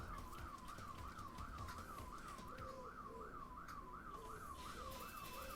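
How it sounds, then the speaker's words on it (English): Alarm during a Mario Kart Wii race: a steady, rapidly warbling siren-like tone repeating without pause throughout, steady in level, with faint game sounds beneath. "The whole race that alarm has been sounding."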